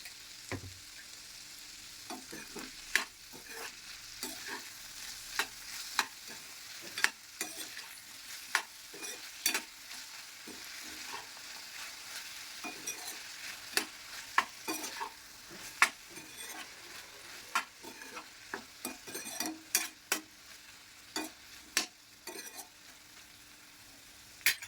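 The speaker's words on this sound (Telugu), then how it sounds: "ఇప్పుడు దొండకాయలు మగ్గుతూ ఉండగా తగినంత ఉప్పు వేసుకుని బాగా వేయించుకోవాలి" Ivy gourds frying with salt in a pan while being stirred, a steady soft sizzle broken by frequent sharp scrapes and clicks of the spatula against the pan, close and unaccompanied by voices.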